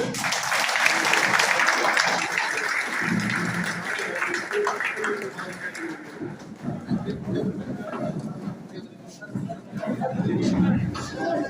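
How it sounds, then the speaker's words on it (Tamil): A crowd at a political rally welcome claps loudly, the applause swelling early then thinning into chatter and murmuring voices before picking up again. "மிக சிறந்த உங்களுடைய பலத்த கைத்தட்டலோடு"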